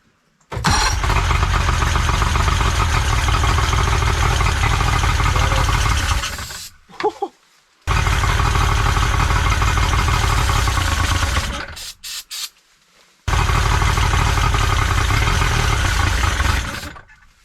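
A 60 hp Johnson outboard motor roars loudly and steadily while being fogged for winterizing, cutting out briefly twice before revving back up, with no talk over it.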